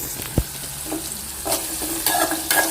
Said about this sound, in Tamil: எண்ணெய் ஊற்றி கடுகு, கருவேப்பிலை, பச்சை மிளகாய், வெங்காயம் அதை சேர்த்து இப்போ நல்லா வதக்கிட்டுருக்கேன்